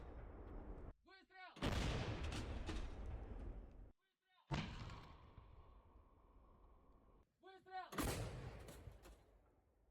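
Artillery fire in a military operation booms out in several loud, close blasts, each followed by long rumbling echoes, with brief gaps of quieter background between the heavy reports.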